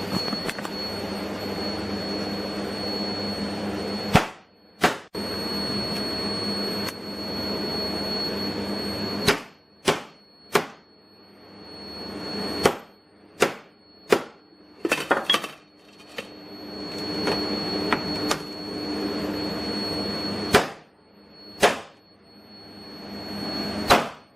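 A hammer strikes a Samsung Galaxy S10+ phone in a series of sharp, loud smashing blows spread irregularly through the clip, set against a steady background hum, with no talk.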